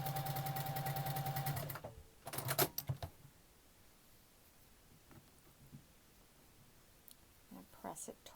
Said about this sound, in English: sew them together with a 1/4 inch seam